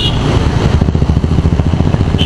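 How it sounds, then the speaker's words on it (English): KTM Duke 250 motorcycle engine while riding, a close, loud, pulsing single-cylinder throb with a rapid regular beat, heard alone. "this is a really good motorcycle"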